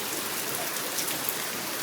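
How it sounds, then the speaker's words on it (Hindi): Steady rain falls outside in a dense, even hiss of drops, constant and fairly close with no voices over it. "ये ऊपर से पानी गिर रहा है। बारिश हो रही है"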